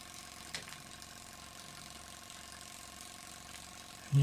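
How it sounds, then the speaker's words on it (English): A tiny oscillating cylinder steam engine on a model windmill, its trunnion held by an O-ring spring, runs with a faint, fast mechanical ticking and whirr, steady and close, ending in a brief louder bump. "There's the tiny little oscillating cylinder engine"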